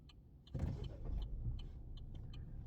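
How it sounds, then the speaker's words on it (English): A car passes along a road, its engine and tyre noise swelling up suddenly and holding as a steady, fairly close rush, with light clicks over the top. "let me let this third car pass."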